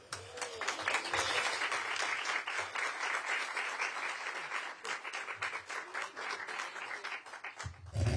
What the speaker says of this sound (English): Let's give Jonathan a big, big, big round of applause.